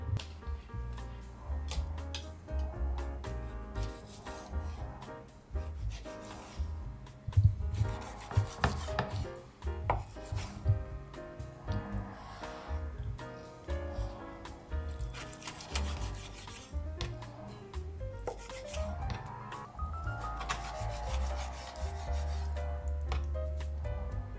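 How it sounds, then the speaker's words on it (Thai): Steady rubbing, rasping strokes of a knife slicing crying tiger beef (marbled Thai grilled beef) into bite-sized pieces on a board, continuing close up for the whole stretch with what sounds like musical tones in the background. "เดี๋ยวเราไปหั่นเนื้อเสือร้องไห้เราไปผัดบนกระทะกัน"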